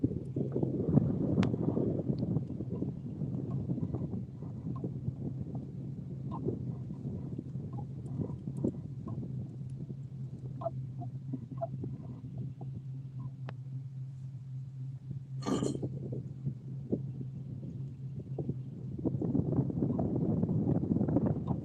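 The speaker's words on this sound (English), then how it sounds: "I'll be glad to get out of this wind." Wind gusts buffet the microphone on open water during a kayak fishing trip, a low rumbling roar close by with scattered knocks, splashes and a brief sharp scrape midway, growing stronger toward the end.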